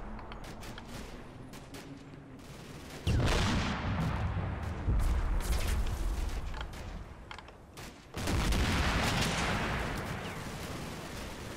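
In a video game, a gun fires 37mm shells in two heavy, booming bursts that crash in suddenly and trail off into rumbling echoes, loud and close, with no speech.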